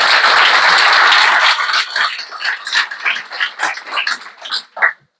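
Audience applause at a talk event, dense and loud at first, then thinning into scattered individual claps and fading out near the end.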